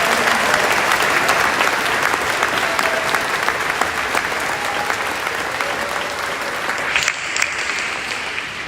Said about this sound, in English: Let us all join together in giving these men and women a heartfelt round of applause one more time for their courage